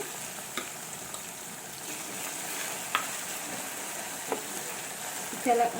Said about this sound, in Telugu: ఇప్పుడు అల్లం పేస్ట్ వేసుకున్నాను.